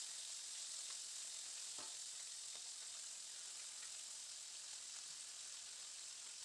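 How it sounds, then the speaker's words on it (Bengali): Fish frying in hot oil for a Bengali dish gives off a soft, steady sizzle with a few faint crackles, low and continuous throughout. "যে বাকিটা ছিল সেটাকে দিয়ে মাছটাকে ভেজে নেব"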